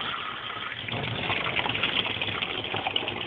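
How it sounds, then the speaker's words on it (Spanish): A kitchen tap in Villa Belgrano, Salta, runs as it fills a drinking glass with local water, a loud, continuous rushing stream that swells slightly as the glass fills. "ahí está la canilla, voy a abrir el agua,"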